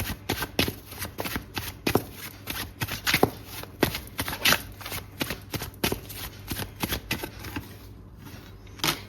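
A deck of tarot cards is shuffled close up in rapid riffling bursts. The flutters repeat in an uneven rhythm for several seconds before trailing off briefly near the end.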